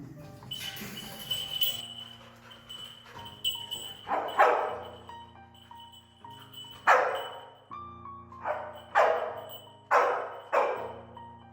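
A rescue dog searching for a hidden person on a fire brigade climbing tower gives a series of sharp, close barks, about seven of them roughly a second apart, over a faint steady hum.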